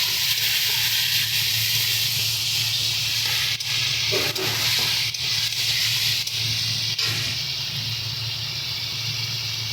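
Water poured into a pan of sizzling tomato masala while cooking potol chingri, giving a loud, steady, steamy hiss that holds for the whole stretch with a low hum beneath.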